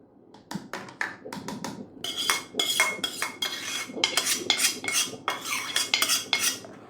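A metal spoon scrapes and taps against a pan, moving ghee into Egyptian lentil soup, in a series of sharp clinks and scrapes in uneven bursts, close up and alone.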